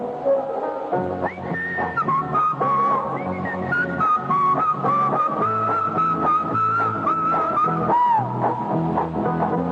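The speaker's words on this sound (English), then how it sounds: "Whistling my favorite song, gotta get moving right along." A whistled jingle melody from a Camel cigarette advert, carried by a clear, sustained tune with steady backing rhythm and no talk over it.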